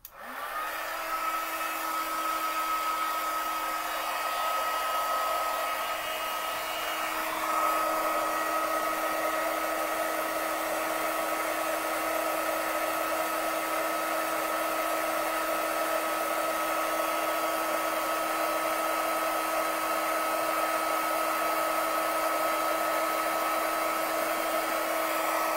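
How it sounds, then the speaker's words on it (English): A heat gun warms up to melt embossing powder for a craft project, giving a loud, steady blowing whir with a fixed hum that starts at once and holds for the whole stretch, alone with no talk. "I'm going to heat my gun up here a little bit to get started"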